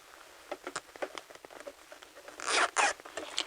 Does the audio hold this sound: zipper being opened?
yes